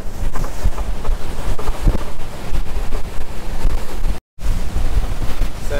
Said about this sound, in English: got the effect of the wind and us powering into it at 20 knots